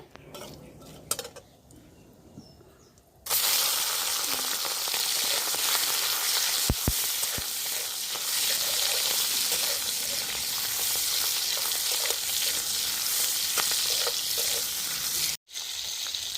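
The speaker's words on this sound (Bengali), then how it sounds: "এই চিংড়ি মাছগুলো আমি এই ফোড়নের সাথেই ভেজে নেব" Small cleaned prawns dropped into hot spice tempering in a pan: a quiet stretch with a few clinks, then a sudden loud, dense sizzle that holds steady, broken by a brief cut-out just before the end.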